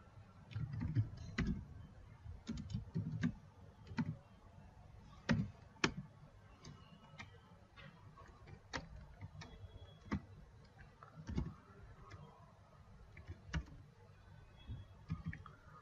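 Faint, sparse keyboard clicks come from typing DFSORT utility code on a computer keyboard, with soft irregular taps and short pauses between keystrokes against a quiet background.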